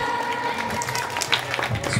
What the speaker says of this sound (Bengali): এটা সবাই মিলে জোরে হাততালি হয়ে যাক।